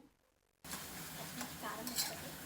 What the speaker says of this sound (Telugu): కారపొడి వేసి బాగా కలుపుకుందాము